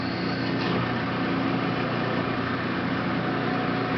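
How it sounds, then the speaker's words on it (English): A metal lathe runs with its feed engaged during taper turning, a steady even machine hum with a faint whine and no breaks. "we're going to turn the lathe on,"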